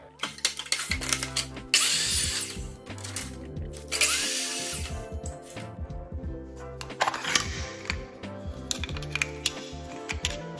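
Power saw cutting a piece of wood trim during basement finish carpentry, heard as two loud bursts of cutting noise separated by short pauses, with clattering handling and tool sounds between them and no talking.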